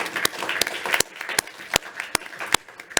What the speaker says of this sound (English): can we put our hands together and give them a warm round of applause